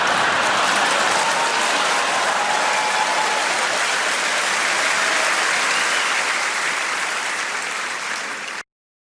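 Dense, sustained applause from a stand-up comedy audience, loud and even throughout before cutting off abruptly near the end.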